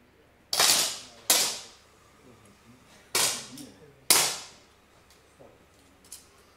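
Four sharp, loud gunshots ring out at uneven intervals at a junior shooting competition final, each with a short decaying tail, followed by a couple of fainter distant shots.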